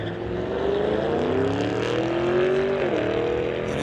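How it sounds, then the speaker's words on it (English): A 1992 Corvette and a 2005 Corvette launch side by side in a street-legal drag race, a loud sustained engine roar climbing in pitch and then shifting, with no talk. "And a 2005 Corvette racers are off, both with precise action times, just neck and neck."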